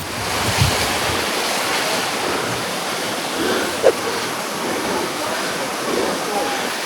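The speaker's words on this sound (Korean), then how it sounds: "폭포가 내려오는데 이렇게 큰 폭포는 처음 봤어요." Silver Falls, a roughly 200-metre waterfall in Sapa, Vietnam, roars as a dense, steady broadband rush of falling water with wind buffeting the microphone.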